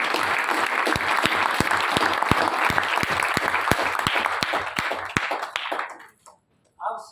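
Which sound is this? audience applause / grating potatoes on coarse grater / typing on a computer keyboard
audience applause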